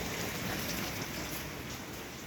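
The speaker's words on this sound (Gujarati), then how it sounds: "જો કન્ટિન્યુ સવારનો વરસાદ ચાલુ જ છે." Heavy monsoon rain falling continuously on a house, a dense, even hiss of drops with no pauses, steady and fairly loud throughout.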